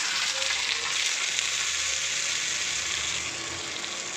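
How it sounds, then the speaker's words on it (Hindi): Loud, continuous sizzling and crackling of a hot oil tempering with curry leaves poured into chutney, a steady frying hiss with faint scraping, no talking. "और ये जो तड़का है हम सीधा डाल देंगे उस चटनी में"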